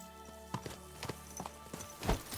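Hooves clip-clop in quick uneven beats as a horse gallops in the medieval role-playing game Kingdom Come: Deliverance II, fairly soft and close, with a brief louder thud near the end.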